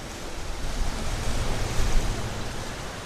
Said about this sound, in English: Waves lapping on the shore.